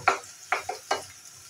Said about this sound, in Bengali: পেঁয়াজটাকে কিন্তু কোনো বেরেস্তা করার প্রয়োজন নেই, আমি সামান্য সফট করেই ভেজে নেব